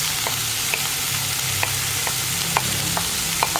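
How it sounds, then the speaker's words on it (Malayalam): Onion and cauliflower sautéing together in one pan for a cauliflower masala curry, a steady close sizzle with a few light stirring clicks and scrapes, no voices. "ഈ സവോളയും കോളിഫ്ലവറും കൂടി നന്നായിട്ടൊന്ന് വഴന്ന് വരണം."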